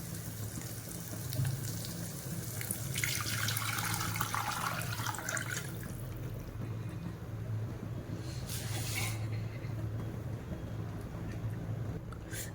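Gooseberry rasam liquid pours and splashes into a pan over a steady low hum, with a longer stream followed by a brief second pour.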